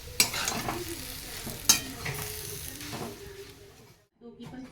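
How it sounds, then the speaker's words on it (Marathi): Okra (bhindi) roasts in a hot pan and is stirred, giving a close, soft sizzle under scraping strokes with a couple of sharp utensil knocks, then a brief silence. "भेंडी पण भाजून झाली आता असं भाजलं ना की मग ते चिकट नाही राहत म्हणून भाजून घेतात"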